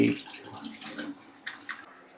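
Tap water splashes and trickles while ingredients for pani puri are washed in a home kitchen, with irregular bursts of pouring and dripping, moderately close.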